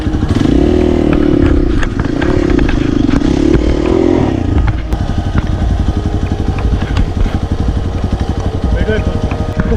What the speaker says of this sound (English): Only then does the bike start.